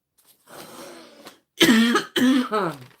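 Two loud, harsh coughs close to the mic, preceded by a softer throaty rumble, with brief pauses between bursts.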